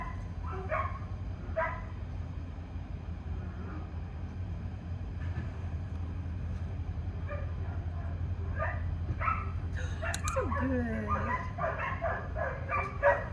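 Tarka, a shelter dog, lets out faint, scattered whimpers and short yips at a distance, with a thin whine near the end over a steady low hum.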